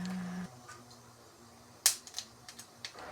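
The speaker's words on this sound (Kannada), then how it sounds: "ಚಟಪಟ ಅಂತ ಸಾಸಿವೆ ಸಿಡಿತಾ ಇದೆ" Mustard seeds pop in hot oil: a few sharp, scattered snaps, one much louder than the rest, over a quiet hiss.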